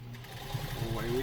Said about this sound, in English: So it looks like we're ready to sew, so we'll give it a little gas and